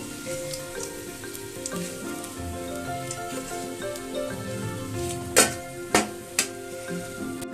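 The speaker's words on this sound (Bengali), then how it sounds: "এইভাবে আমি বাকি মাছগুলো ভেজে তুলে নেব।" Foli fish pieces frying in hot oil, a steady dense sizzle throughout with a few sharp crackles and pops near the end.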